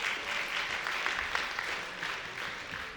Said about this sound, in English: First ever applause for Boof.